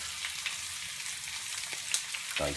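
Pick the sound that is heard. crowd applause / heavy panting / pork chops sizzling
pork chops sizzling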